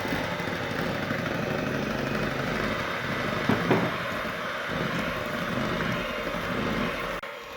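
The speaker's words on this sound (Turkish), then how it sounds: "Bu kadar çırptım, karıştırdım ve kapatıyorum." An electric mixer whisks wet cake batter of eggs, olive oil and corn oil with sifted dry ingredients, giving a steady, loud motor whir that runs evenly for several seconds and then cuts off.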